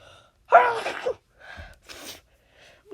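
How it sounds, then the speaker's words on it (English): A man reading aloud from a book sneezes once, a loud burst of breath, followed by a softer sniff and a short exhale, with quiet pauses between. "Hang on, I gotta sneeze."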